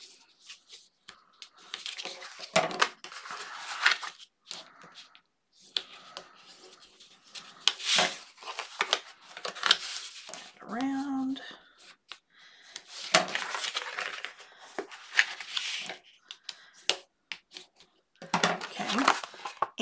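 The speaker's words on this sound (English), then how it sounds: "So we're still going to fold our cardstock around." Cardstock being folded and creased around the spine of a 6x6 mini album, with intermittent rubbing, sliding and scraping bursts of paper handling, close and moderately loud, spread across a long stretch with no talk.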